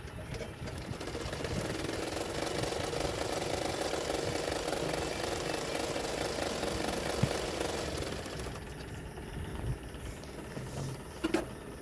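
A sewing machine stitches extra fabric onto a blouse with a steady, fast mechanical whirr that runs for about eight seconds, then stops and leaves a quiet room with a couple of small clicks.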